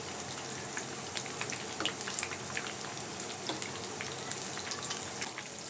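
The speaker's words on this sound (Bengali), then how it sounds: "একটা সাইড শক্ত হয়ে গেছে, এরপর কিন্তু এটাকে আমি উল্টিয়ে দিচ্ছি" Oats pakoras fry in hot oil, a steady close crackle and sizzle with scattered sharp pops, going on alone without any talk.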